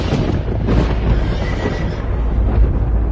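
A horse neighs loudly amid a rumbling, dense background of hooves and chariot-like noise, a dramatic sound effect within a spoken Bible reading, with no speech during it.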